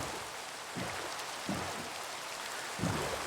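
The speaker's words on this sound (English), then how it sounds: "The rain is soothing." Steady rain falling in the Minecraft video game, a continuous soft hiss of drops with a few slightly louder patters every second or so, close and even, with no voices.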